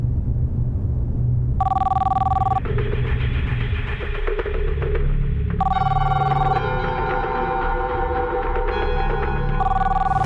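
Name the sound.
telephone ringing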